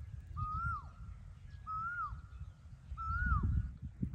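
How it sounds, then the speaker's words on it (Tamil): An Asian koel calls at the Kabini backwaters, its rising whistled note repeated three times at steady intervals, clear and moderately near over a low rumbling background. "குயில் பாட்டு பாடிக்கொண்டிருக்கிறார்."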